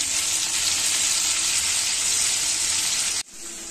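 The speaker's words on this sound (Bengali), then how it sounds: "তারপরে এই ডাটিগুলোকে ভাজবো, একটু কড়া করেই ভাজবো।" Crab legs deep frying in hot oil give a loud, steady, close-up sizzle with no voices, broken by a brief drop near the end before the hiss resumes more faintly.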